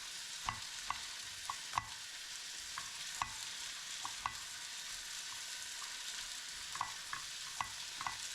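Seasoned food with white paprika and lemon is stirred and mixed in a pan, with faint, regular utensil scrapes and taps repeating over a soft background sizzle.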